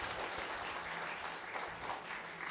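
Audience applauding at the Jagran Achiever Awards ceremony in Phuket, Thailand, a dense steady clapping from a large crowd that holds evenly loud throughout with no talk over it.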